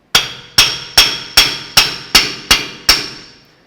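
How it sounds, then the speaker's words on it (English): A hammer strikes an axle nut on a 2005–2016 Toyota RAV4 front driver-side CV axle, eight sharp metallic blows in a steady rhythm, loud and close with a brief ringing decay after each hit. "I don't want to damage the threads if I miss with the hammer"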